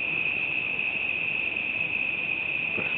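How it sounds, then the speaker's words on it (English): Steady, shrill insect drone of cicadas on an autumn evening in Warburton, a continuous high buzz holding evenly throughout with faint low background rumble and no talk. "Hear the cicadas. They're down there somewhere."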